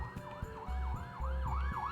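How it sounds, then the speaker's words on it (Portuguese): A police car siren wails in rapid, repeating up-and-down sweeps, moderately loud and steady over a low road rumble. "finalmente ouvi a sirene da viatura"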